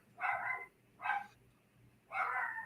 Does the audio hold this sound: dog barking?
yes